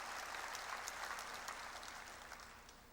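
Congregation clapping during a church worship service, a steady wash of hand claps at moderate distance that gradually fades.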